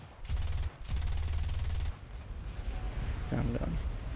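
Guns of an M3A3 Bradley firing in the video game War Thunder, two loud sustained bursts of rapid fire close by, followed by quieter rumbling battle noise.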